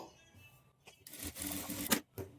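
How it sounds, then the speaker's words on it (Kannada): A sewing machine stitches the darts of a katori blouse in short, quiet bursts of whirring separated by brief pauses. "ಡಾಟ್ಸನ್ನು ಫೋಲ್ಡ್ ಮಾಡಿಕೊಂಡು 1/2 ಇಂಚ್ ಮಾರ್ಜಿನ್ ಇಟ್ಕೊಂಡು ಡಾಟ್ಸನ್ನು ಸ್ಟಿಚ್ ಮಾಡ್ಕೊಳ್ಬೇಕು"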